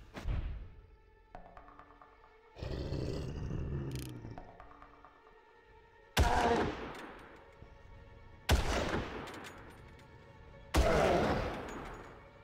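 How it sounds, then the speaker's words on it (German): Three loud, sharp sniper rifle shots in the video game Far Cry, inside a volcano, ring out a couple of seconds apart, each with a decaying tail, after a stretch of rumbling and clattering. "3 Schüsse und das Viech ist weg."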